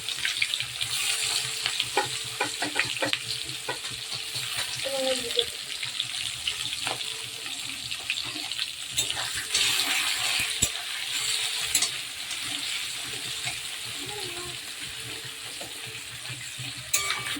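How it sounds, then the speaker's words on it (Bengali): Chopped onion frying in oil in a pan while chicken kosha is cooked the village way. A steady, close hiss and crackle runs throughout, with occasional clinks and stirring noises and no talk. "এর মধ্যে আমি দিয়ে দেব পেঁয়াজটা আমি ভালো করে ভেজে নেব।"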